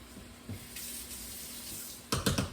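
A kitchen tap runs steadily as a spatula is rinsed under it, the soft hiss of flowing water ending in a few louder splashing bursts, with no talking.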